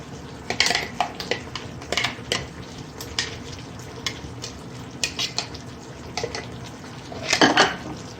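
A green chili, yogurt and onion mixture goes into a pan and is stirred, with clinks and scrapes of a spoon against the metal pan over a soft sizzle, and a louder clatter near the end.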